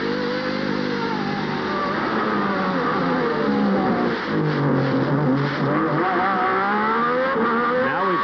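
A Williams Formula 1 V10 screams through an onboard lap at Le Castellet, the loud, close engine holding a high continuous wail with rising and falling pitch sweeps through gear changes, without any voices.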